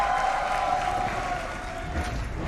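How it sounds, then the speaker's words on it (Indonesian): Audience applause at the MPL Arena during a Mobile Legends esports match, RRQ versus ONIC: a steady wash of clapping and crowd noise fills the whole stretch at an even level, with no clear speech over it. "Bisa tepuk tangannya!"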